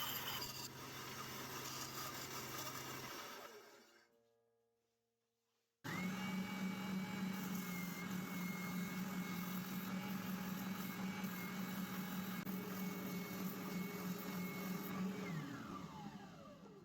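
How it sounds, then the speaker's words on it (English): Bandsaw cutting angled wood wedges nailed to another wedge, a loud whining machine drone that cuts out briefly and then starts again, holding a steady buzzing tone with a rough cutting rasp before winding down. "any cut that I make on the bandsaw is also going to be at an angle"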